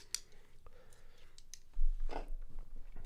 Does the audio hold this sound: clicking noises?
yes